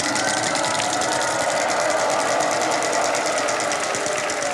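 A game show prize wheel spins with a fast, even ticking clatter, rapid rhythmic clicks running continuously and loud as the pointer strikes the pegs.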